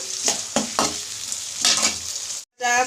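Onions sizzle in a pan for a country chicken curry with new potatoes, frying steadily while a spoon scrapes and stirs in a few distinct strokes, ending after a brief gap.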